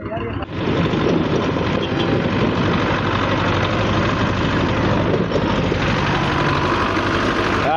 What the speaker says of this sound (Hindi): ट्रैक्टर चल रहा है, सफाई हो रही है